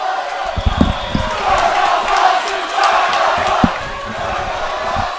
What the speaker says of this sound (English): can hear the crowd